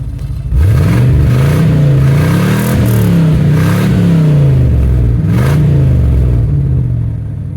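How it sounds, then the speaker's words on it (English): A 1998 Chevy 3500 pickup truck engine revs loudly up and down a few times, rising and falling in pitch with a rough rumbling tone, close by. "I'll put you here and we'll give a couple revs"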